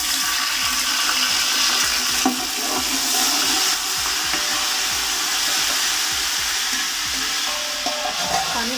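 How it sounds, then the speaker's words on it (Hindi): Garlic water hits browned onions frying in a pot for chana pulao, giving a steady loud sizzle and hiss with bubbling and occasional stirring clinks, no voices. "अब इसमें मैं ऐड करूँगी जो मैंने लहसुन का पानी निकाल के रखा हुआ है।"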